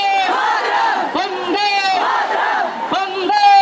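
Protest crowd at Jantar Mantar chanting slogans demanding a minister's resignation, loud massed voices repeating a rhythmic call in waves, close and continuous.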